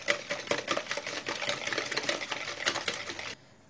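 Basbousa batter ingredients beaten with a hand whisk, rapid rhythmic clicking and scraping strokes against a bowl, close and fairly quiet, stopping abruptly just before the end.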